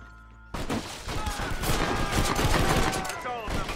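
Rapid gunfire from a firearm in the Western video game Red Dead Redemption, a dense loud burst of shots that starts abruptly after a quiet moment and continues steadily to the end.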